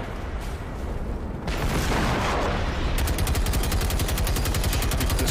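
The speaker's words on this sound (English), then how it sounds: "Shoot this thing. Shoot it up. Shoot it up." Dense, loud automatic gunfire in the shooter game Generation Zero, a rapid steady rattle of shots with heavy rumbling blasts underneath, continuous with no talk.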